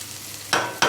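Food sizzles in oil in a pan while being stirred, a close hiss that flares loudly in two bursts within a second.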